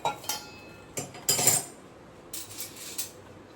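Metal utensils and a bowl clink as freshly heated ghee is scooped out in a home kitchen, a few sharp separate chinks and taps with quiet gaps between them.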